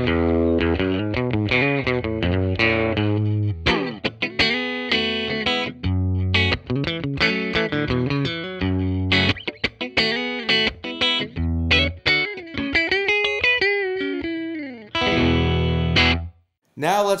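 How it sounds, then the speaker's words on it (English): Electric guitar running through a Sonic Blue Twanger pedal on a loop switcher, a twangy, bright run of picked notes and bends with sharp attacks, loud and up close, with brief talk over parts of it. "Let's turn on that Sonic Blue Twanger over here."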